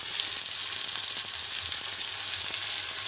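Raw vegetables for Schezwan noodles stir-fried in a hot pan, giving a steady, loud sizzle with faint scraping of the spatula throughout and no talking.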